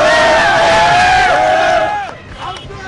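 Saudi football fans cheer and chant in a packed stadium after a win over China, a loud, sustained roar of many voices with rising shouts that fades toward the end.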